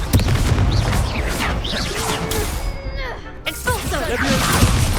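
Confringo fire-blast spell during a duel in Hogwarts Legacy: a dense, continuous roar of crashing and whooshing impacts with rising and falling tones, loud and close throughout, mixed with voices.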